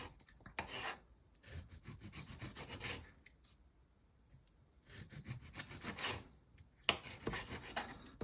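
A knife slices a ripe tomato into thin pieces for a sourdough open sandwich. There are several close, quiet bursts of rasping cutting strokes, separated by short silences.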